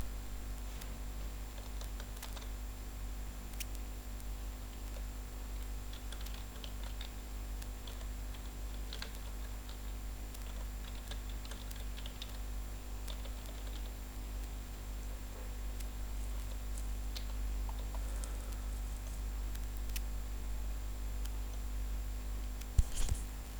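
Keys on a computer keyboard tap faintly and sparsely while data goes into an Excel sheet, with scattered light clicks over a steady low electrical hum in a quiet room.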